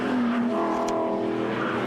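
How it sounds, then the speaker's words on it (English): BMW 2002 race car running at Hampton Downs circuit on slick tyres, a steady loud engine drone with tyres squealing and another car's engine blending in. "Mike Delmont all over him in the background there in that fast little 2002."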